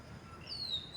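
A sparrow chirps outdoors near a home, one thin high chirp rising faintly above a low background hum.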